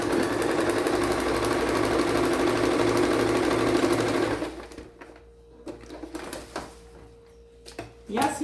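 A domestic sewing machine runs fast and steady while stitching a zippered cosmetic pouch, a loud close whirring chatter for about four seconds that then stops, leaving soft handling clicks and taps.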